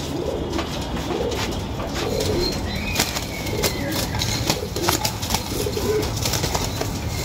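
Domestic pigeons kept at a home in Bangladesh, one of them ill, coo in a run of soft, low, rolling calls, with light clicks and rustles nearby and no clear talk.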